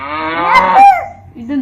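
A cow gives one loud, close, drawn-out moo that rises and falls in pitch, followed by a shorter low grunt.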